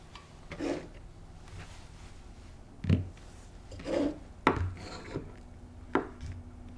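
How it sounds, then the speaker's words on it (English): A Benelli Montefeltro shotgun's trigger assembly is worked loose and pulled from the receiver, giving a few quiet, separate metallic clicks and scrapes spaced seconds apart. "we can pull the trigger assembly out of the receiver"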